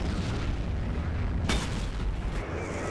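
A tank gun shot strikes a KV-4 tank in a tank battle video game: one sharp, loud crack with a booming burst partway through, set against a constant low rumble of battle noise.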